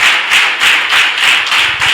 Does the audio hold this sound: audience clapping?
yes